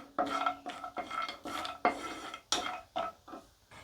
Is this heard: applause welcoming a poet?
no